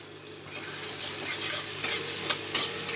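Ginger paste and soft tomatoes frying in a pan while being stirred, a low steady sizzle with occasional sharp scrapes and clicks of the spoon against the pan.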